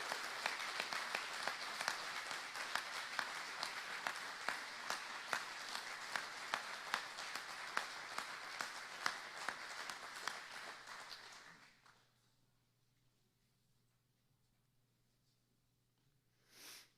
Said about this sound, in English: Please join me in a round of applause for Battalion Chief Steve Ness and his Lifetime Achievement Award.